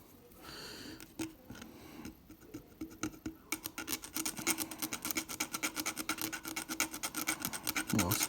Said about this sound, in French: on prend le triple zéro et on y va doucement. On frotte, on la caresse